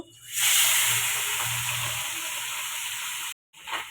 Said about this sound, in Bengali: মোরালা মাছটা ধুয়ে হলুদ লবণ মেখে ভেজে নিব